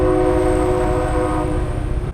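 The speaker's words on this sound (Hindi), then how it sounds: "ट्रेन गुजर रही है कहीं से।" A passing train sounds a loud, sustained horn, a steady harmonic blare that holds for the whole stretch, with rumbling wheels and rail noise underneath, close and dominant.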